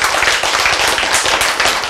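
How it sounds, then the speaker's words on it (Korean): An audience claps together during a Korean church sermon, a dense, even patter of many hands lasting under two seconds with no speech over it. "이런 하나님께 박수 한 번이야"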